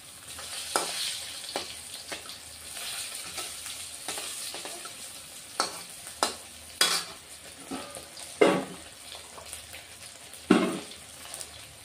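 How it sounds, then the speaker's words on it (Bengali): Rohu fish fries in a pan with a continuous sizzle, punctuated by a dozen or so sharp scrapes and clinks of a utensil stirring and turning the pieces. "বন্ধুরা মাছ ভাজা আমার হয়ে গেছে, এখন মাছ ভাজাটা আমি নামিয়ে দিব"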